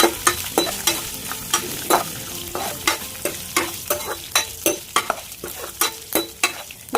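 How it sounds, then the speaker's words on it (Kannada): Ingredients for chicken pepper gravy frying in oil on a low flame, with a rhythmic series of close spatula scrapes and taps against the pan over a steady sizzle, and no voices. "ಇದನ್ನ ಈ ಥರ ಹುರ್ಕೊಳ್ಳಿ, ನೀಟಾಗಿ ಚೆನ್ನಾಗಿ ಹುರ್ಕೊಳ್ಳಿ"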